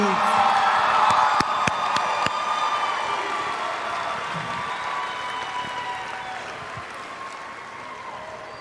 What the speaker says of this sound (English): Let's give one more round of applause as the last graduates are making it to their seats.